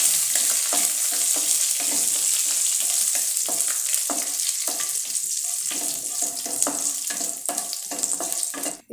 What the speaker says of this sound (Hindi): थोड़ा सा राई डाल देंगे। और इसे फ्राई कर लेंगे।